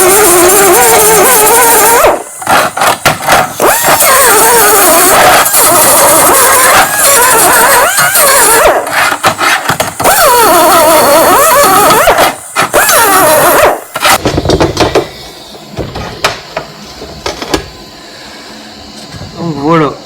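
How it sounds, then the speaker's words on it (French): An angle grinder passes over a MIG weld bead made with a Silex 160 welder, a loud, sustained whining grind with wavering pitch that cuts in and out, then eases to quieter intermittent contact near the end. "Je vous propose de passer un petit coup de meule là-dessus et puis de regarder ça de plus près."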